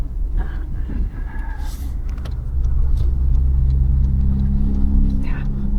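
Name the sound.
Toyota Hilux pickup truck accelerating away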